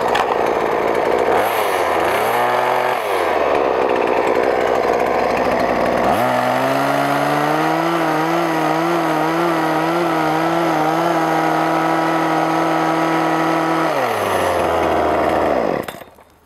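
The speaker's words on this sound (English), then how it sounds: "So this is a tool, this hedge trimmer here, that can make quicker work of a longer row." Hedge trimmer cutting through raspberry canes in a row at ground level in a high tunnel, a loud droning motor that revs up and down repeatedly, with wavering pitch under load, before shutting off at the end.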